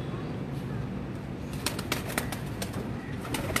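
Racing pigeons from a rooftop flying show, with wings flapping in a quick burst of sharp beats and faint coos beneath a steady background hum.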